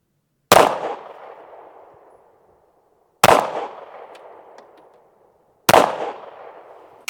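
Three loud, close gunshots from a Derya Arms Dy9z shotgun, each a sharp blast trailing off into a short echoing decay, spaced a few seconds apart with silence between.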